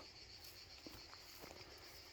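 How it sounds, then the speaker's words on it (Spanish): A steady high-pitched cicada buzz drones continuously in the background, faint and distant, with a few soft rustles underneath. "y cantando la chicharra."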